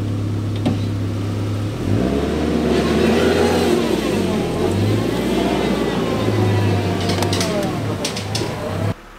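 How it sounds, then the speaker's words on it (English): A big truck revs hard for several seconds, its engine rising and holding a loud, steady roar as it tows a stuck two-wheel-drive pickup through long damp grass, then it cuts off abruptly. "So I think Matt's gonna pull me out with his giant truck."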